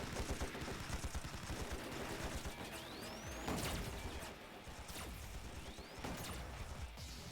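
Rifle gunfire and crashing combat noise from the video game AI: The Somnium Files, steady and dense throughout, with a few sharp loud shots standing out over the continuous din.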